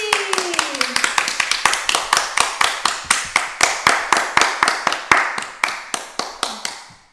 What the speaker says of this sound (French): Tout le monde, on applaudit!